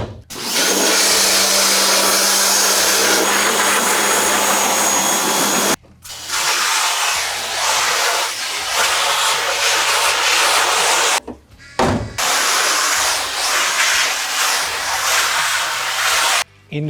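Water blasts against the squeegee side of a screen-printing screen as it is cleaned. The spray is loud and steady, with three short pauses between bursts.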